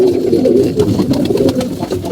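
Pigeons coo continuously in low, throaty murmurs, several birds overlapping close by with a steady rolling rhythm.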